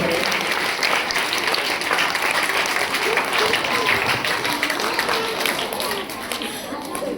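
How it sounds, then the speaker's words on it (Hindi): Children at a Deepawali school function clap hard for their teachers, a loud crowded burst of applause with some chatter mixed in, fading slightly toward the end. "एक बार सभी बच्चों से निवेदन करता हूं कि आप अपने गुरुओं के लिए एक बार जोरदार तालियां बजा के आप उन्हें प्रणाम करें।"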